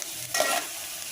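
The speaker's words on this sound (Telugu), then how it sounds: "వీటిని బాగా ఫ్రై చేయాలి" Onions with a pinch of salt fry in a pan, a soft steady sizzle with one brief louder stirring scrape near the middle; close and quiet, no talking.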